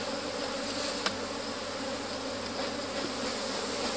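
Honeybees buzz at an opened hive while old combs are replaced with wax foundation, a dense, continuous, close drone with a single sharp knock and no talk.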